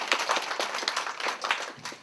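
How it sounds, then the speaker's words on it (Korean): A church congregation claps through a Sunday sermon service, a dense, steady patter of many hands at moderate distance that stays fairly even, with a slight dip near the end. "자, 감사합니다. 박수."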